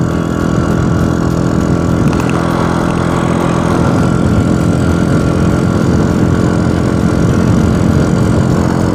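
A Honda Wave 100 motorcycle engine while riding, a steady loud droning hum with wind rush that continues without a break, close and constant.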